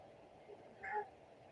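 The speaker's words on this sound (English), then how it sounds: "As my cat goes meow." A pet cat gives a single short, faint meow partway through, against a quiet indoor background.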